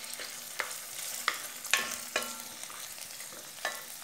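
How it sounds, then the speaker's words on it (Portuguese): Tomato and onion sautéing in a pan for baked pasta: soft, continuous sizzling with several sharp stirring scrapes, quiet and close, with no talk. "Deixar ele dar uma refogadinha."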